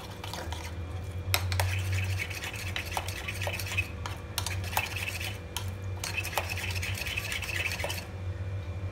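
Spoon stirring a smooth spice paste with cooking oil in a pan for dhaba-style methi chicken curry, with steady scraping and clinking strokes, close and moderately loud, no talking.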